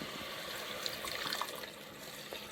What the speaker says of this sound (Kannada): 2 ಗ್ಲಾಸ್ ನೀರು ಹಾಕೋತಿದ್ದೀವಿ